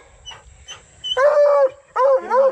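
A hunting dog whimpers and whines after a deer track recovery, with a few soft whimpers followed by two louder, drawn-out high whines close by, and faint background rustle.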